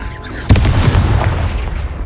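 A single loud Confringo blasting spell explosion bursts out in the video game Hogwarts Legacy, a sharp booming hit followed by a rumbling, crackling tail.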